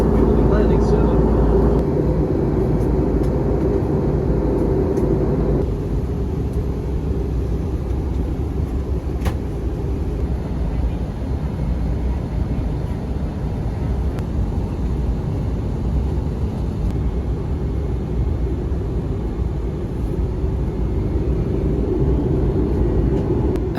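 Steady, loud low rumble of an Airbus A321 cabin during descent, engine and airflow noise droning without break, with a cabin announcement voice heard over it.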